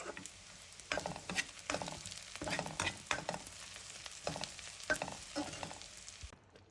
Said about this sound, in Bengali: এখন আমি খিচুড়িতে বাগারটা দিয়ে দিই